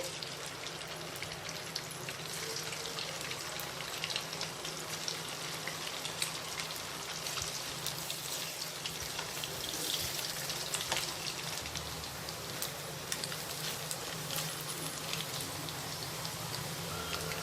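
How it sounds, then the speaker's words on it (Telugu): Chicken pieces fry in hot oil with a steady, dense crackling sizzle that runs evenly throughout, moderately quiet and close. "ఇదే విధంగా అన్నీ మళ్ళీ వేసి ఫ్రై చేసుకుందాము"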